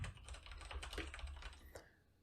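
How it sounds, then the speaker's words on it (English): Rapid keystrokes clatter on a computer keyboard in an irregular burst, close and fairly quiet, trailing off near the end. "I don't know how loud my keyboard is"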